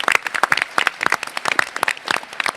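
A dense, steady burst of audience clapping fills a university hall during a panel on the opioid crisis at the University of Delaware. The applause is close, lively and unbroken.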